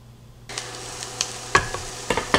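Pressed garlic drops into a pan of cooking onion for baked ziti, setting off a steady close sizzle broken by several sharp scraping stirs and clicks of a utensil against the pan.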